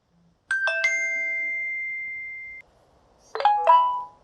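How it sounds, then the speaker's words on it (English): Notification tones from Wear OS smartwatches, a Samsung Galaxy Watch 4 Classic and a Mobvoi TicWatch Pro 3 Ultra, sound as two separate chimes: a bright multi-note ding that rings on and fades, then after a short pause another quick rising chime. "And when you get a message, you can get a tone on both of these watches."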